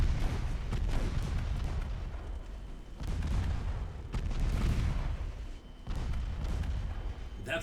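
Naval guns fire high-explosive rounds in a dreadnought-era naval battle game, a string of deep, rolling booms in several heavy bursts over steady low rumble.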